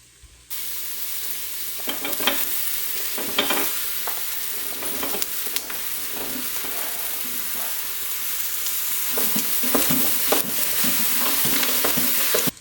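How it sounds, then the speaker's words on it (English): Chopped butternut squash added into an Instant Pot, a continuous hiss with repeated knocks and scrapes of stirring that grow busier toward the end, close by and with no talking. "We are going to add the chopped butternut squash into the Instant Pot."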